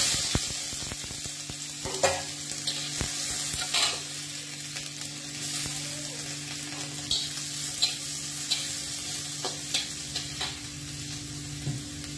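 Eggs frying in a pan for an egg curry, a steady close sizzle running throughout with occasional clicks and scrapes from stirring.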